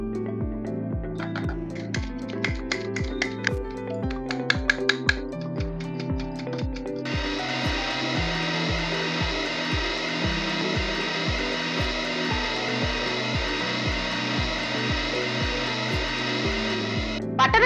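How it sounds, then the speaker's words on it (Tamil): An electric mixer beats butter and sugar for a Christmas plum cake batter. It runs as a steady, close motor whir with a rhythmic pulsing and rises in pitch and intensity partway through, and no voices are heard. "பட்டரும் சக்கரையும் பீட் பண்ணியாச்சு."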